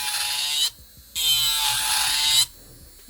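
A Melodysusie Jade S electric nail file prepping nails whirs in two steady high-pitched bursts separated by a short pause, close and loud with no talking.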